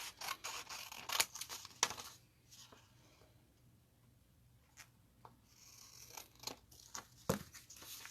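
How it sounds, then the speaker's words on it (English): Scissors snipping around a paper envelope in short bursts of crisp cutting, with pauses of near silence between, close and fairly quiet. "I'm going to take a pair of scissors and just cut around the envelope."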